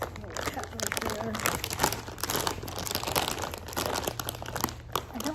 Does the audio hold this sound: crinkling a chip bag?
yes